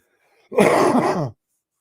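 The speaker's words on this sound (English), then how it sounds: "I don't know if you guys hear me coughing or not." One short, harsh cough, close and fairly loud, with silence before and after.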